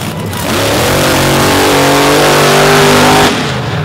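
A monster truck running a brand new engine combination revs hard at a Brooksville monster truck event, a loud sustained roar that climbs and holds for about three seconds before cutting off, with no voices.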